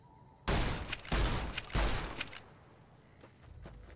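Shots from a .357 revolver in the video game Fallout New Vegas, three loud close cracks fired in quick succession, each with a short echoing tail, then quieter clicks and handling noises.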